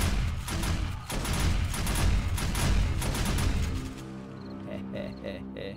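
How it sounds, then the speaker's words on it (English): A shotgun turret firing on zombies at a base in the game 7 Days to Die: a rapid, loud barrage of blasts that suddenly stops, followed by quieter clanks and a voice speaking. "The shotgun turret over here. Watch this."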